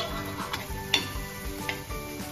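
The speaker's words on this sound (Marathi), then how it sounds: "आता आपण तव्यामध्ये थोडंसं बटर किंवा गावठी तूप पण घेऊ शकतो आणि त्याच्यामध्ये सगळं वाटलेलं वाटण" Cashew, green chili, ginger, garlic and coriander paste frying in butter or ghee in a pan for stuffed pomfret, a soft steady sizzle with a few sharp scraping stirs, close and without talk.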